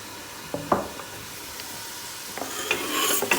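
Chopped peppers sizzle in a hot pan, a steady frying hiss with occasional clinks and scrapes of stirring, close and moderately loud.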